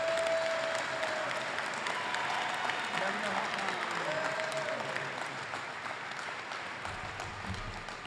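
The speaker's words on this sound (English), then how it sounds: "let's give him a round of applause and congratulate him" A crowd applauds for Haywood Highsmith at his basketball jersey retirement ceremony, with sustained, dense clapping that fills the room and fades slightly toward the end.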